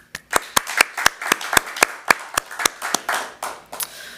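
Roughly fifteen sharp, evenly spaced claps from a small number of hands at a parks and recreation board meeting, close and distinct in a quiet room.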